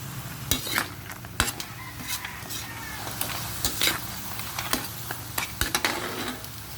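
Vegetables stirred in a cooking pot, with repeated scraping clinks of a utensil against the pot over a steady low sizzle and bubbling, close and fairly loud throughout.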